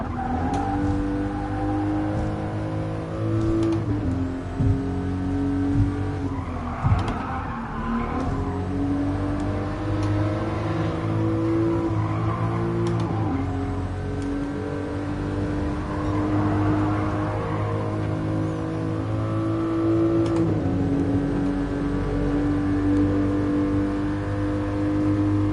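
In GT Sport on PS4, a car's engine holds a steady high drone at around 180 km/h, with sustained tones that dip and climb through gear changes and a few brief scrapes, loud and continuous.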